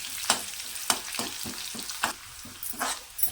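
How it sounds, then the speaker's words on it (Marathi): Crushed garlic fries in oil with cumin, a soft steady sizzle broken by sharp scraping strokes of a spoon stirring the pan at an irregular pace. "आता जिरं चांगलं फुललं की यामध्ये ठेचलेला लसूण वल्ला घालायचा लसूण आपल्याला आहे ना हलकासा लालसर करून घ्यायचा"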